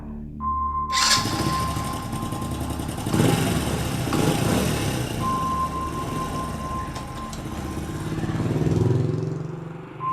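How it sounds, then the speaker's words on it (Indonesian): A motorcycle engine idles and warms up, then revs and accelerates away in a radio drama effect, loud and rough with a steady beep tone early on, swelling near the end. "memanaskan motor, dan tak lama kemudian langsung menancap gas menuju rumahku"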